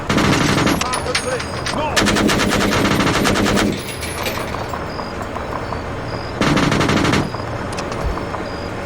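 Bursts of automatic machine gun fire in the military shooter Arma 3, loud rapid rattling volleys in several long strings with pauses between, over constant battle ambience, and a voice briefly shouts.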